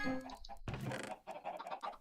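Clucking chickens from a Minecraft chicken farm: a quick run of short, close clucks and squawks from several birds, steady over two seconds with no talking.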